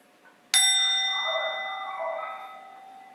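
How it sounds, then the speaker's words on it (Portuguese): A meditation bell in a Taoist online meditation session is struck once after a brief quiet, giving a bright ringing tone that sustains and slowly decays for several seconds alone. "Então, vou tocar o sino."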